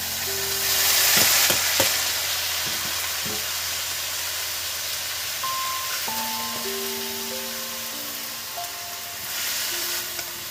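Chopped cabbage for a vegetarian Bengali ghonto being stirred in hot oil, with a loud hissing sizzle and a few quick scrapes early on, then a steadier frying hiss with faint tonal hums underneath, no voices.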